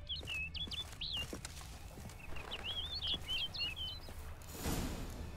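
A bird in The Witcher 3 video game gives quick high chirps in short scattered bursts, faint over a low rumbling ambience with soft patter and footsteps.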